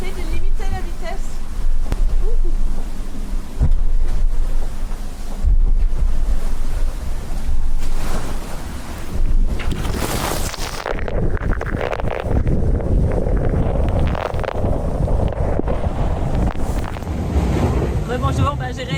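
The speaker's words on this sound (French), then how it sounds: "L'état de la mer n'est pas très agréable." Rough seas slam and wash around a Vendée Globe racing sailboat while strong wind roars across the microphone, loud and continuous with surging bursts of spray, and a voice talks faintly underneath.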